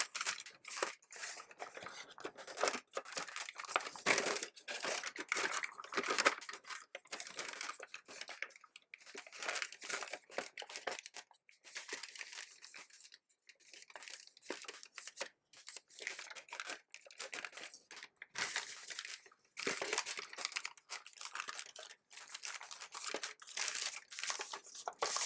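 Paper being folded into an origami pigeon, the crisp creasing and crinkling of the sheet coming in close, rapid bursts of rustles and crunches that run continuously with only brief pauses.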